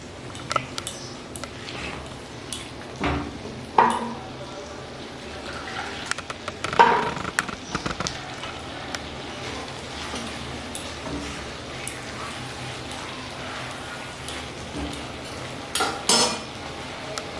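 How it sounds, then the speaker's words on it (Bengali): Pointed gourd being stir-fried with spices in milk-based dudh potol over a low-medium flame: a soft, steady sizzle with intermittent clinks and scrapes of a spoon against the pan, close by and without speech. "ফ্লেম লো টু মিডিয়ামে রেখে একটু ভালো করে কষিয়ে নিচ্ছি।"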